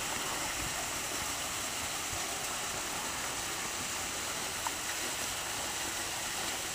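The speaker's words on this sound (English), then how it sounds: "here's a waterfall back in here." A waterfall in Red River Gorge, Kentucky, gives a steady, faint, broadband rush of falling water that holds evenly throughout with no voices.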